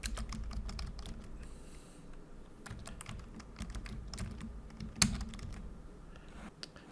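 Quiet, steady typing on a computer keyboard while entering text in drafting software, rapid soft key clicks over a low background hum with one sharper tap near the end.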